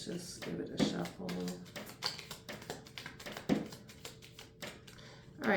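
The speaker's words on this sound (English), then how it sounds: "let's just give it a shuffle." Tarot cards being shuffled by hand, a run of quick dry taps and riffling clicks in an irregular rhythm, close and fairly quiet, with brief bursts of talking.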